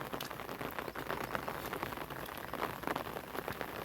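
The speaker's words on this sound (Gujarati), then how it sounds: "એકદમ વરસાદ" Heavy rain pours over a village, a continuous soft hiss of falling water with a scatter of drop patters, quiet and without speech.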